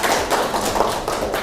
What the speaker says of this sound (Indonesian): Beri tepuk tangan untuk Tiwi.